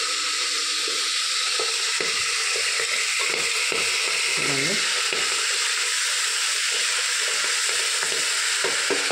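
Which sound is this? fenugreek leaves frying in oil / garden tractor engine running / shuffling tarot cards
fenugreek leaves frying in oil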